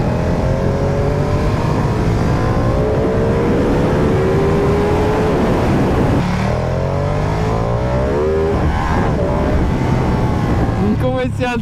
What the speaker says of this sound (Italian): adesso siamo in terza, a bassissimi giri la moto riprende senza problemi